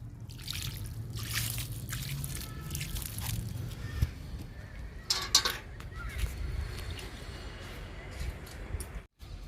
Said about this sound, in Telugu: సొరపాదికి వాటర్ ఇస్తున్నా